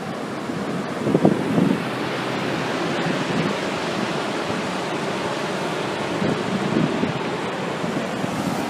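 Shallow ocean waves wash steadily onto a beach in Trinidad, California, a continuous near surf roar with wind buffeting the microphone and slightly louder swells early on and again near the end.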